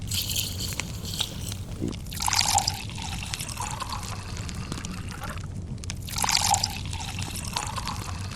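Cold water poured into a pot of mutton biryani, coming as two distinct splashing pours separated by a pause, close and moderately loud against a low background hum.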